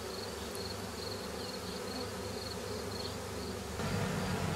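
Honeybees fan their wings at a hive entrance in a dense, steady drone close by, a constant humming of many wings with a faint higher whine above it.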